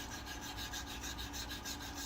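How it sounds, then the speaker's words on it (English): Sandpaper rubbing back and forth over a wooden bass guitar body, moving from 100 to 220 grit, a steady close rasping scrub with a fast, even rhythm and no voices. "I start off with 100 grit, get all those marks out, and then go around it again, including the bull-nosed edges down to about 220 grit."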